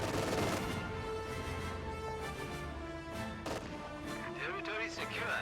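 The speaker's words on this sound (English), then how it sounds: "Flamethrowers firing on that Pio squad." Flamethrowers fire on an infantry squad in a real-time strategy war game amid a dense, fairly quiet battle din of rumbling blasts, crackling shots and clattering impacts, continuous throughout.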